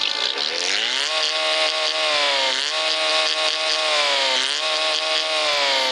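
A car engine revs steadily in the video game Car Parking, its pitch rising and settling in a few surges, loud and continuous throughout.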